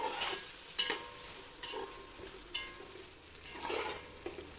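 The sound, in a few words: onions frying and being stirred for plov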